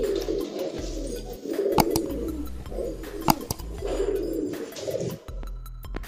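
Soft, low pigeon coos repeat in rolling phrases at a pigeon market in Muzaffarnagar, with a few sharp clicks and rustles around them, close by and fairly steady.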